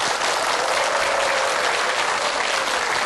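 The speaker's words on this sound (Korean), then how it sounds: "여러분들 큰 박수로 환영해 주시면 고맙겠습니다." A Korean TV studio audience gives a steady, loud round of applause welcoming a guest onto a cooking-business talk show set, continuous clapping filling the whole moment with no voices over it.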